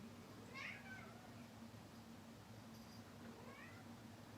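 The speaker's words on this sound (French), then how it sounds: "c'est pas souvent qu'elle miaule" A cat meows indoors in a quiet room, with two or three short, faint calls spread over a few seconds above a low steady hum.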